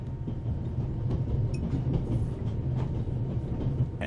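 Train rolling along rails in the video game The Raven Remastered: a steady, low rumble with faint rhythmic clatter that continues for the whole stretch and never lets up.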